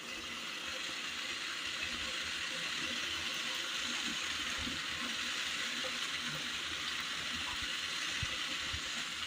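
Water boils in a pot set up to steam a Kerala tea-time snack, giving a steady, even hiss and bubbling that runs unbroken throughout, close and moderately loud, with no voices.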